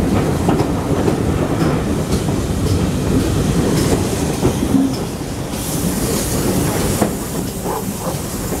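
A model train rolls steadily along its track at a Great Central Railway model event, a continuous close rumble with repeated clickety-clack of wheels over rail joints throughout.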